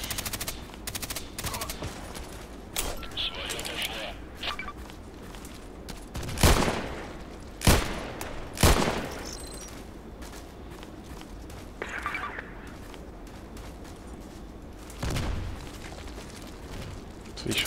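Gunfire crackles in the online shooter Contract Wars, with several sharp shots standing out over a busy background of quieter game noise and faint voices.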